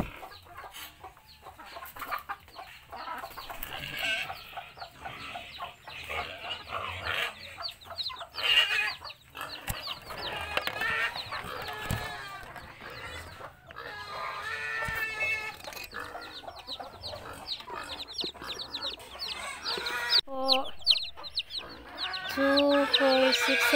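A mother hen with a new batch of chicks: steady low clucking runs close by throughout, with high, thin chick peeps scattered over it and occasional handling noises in the background.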